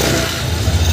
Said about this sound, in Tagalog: bumalik na sa dati yung andar niya, saka yung pirsa ng motor